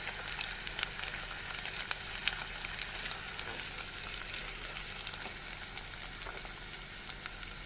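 Onion and minced meat fry with a spoonful of tomato paste, giving a steady, fairly quiet sizzle with scattered crackles and light stirring taps, continuous and close, with no talking.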